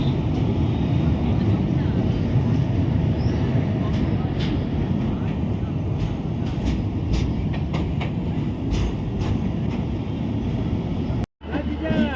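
A passenger train pulls into Prayagraj Junction, arriving late. Its low rumbling roll and rhythmic clatter go on steadily, close and loud, and a brief dropout near the end cuts the sound.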